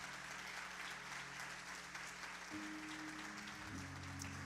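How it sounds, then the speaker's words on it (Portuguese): Applause from a church congregation, a faint, steady wash of clapping far in the background under a low sustained organ or keyboard tone that shifts pitch. "Pode aplaudir ao Senhor por isso."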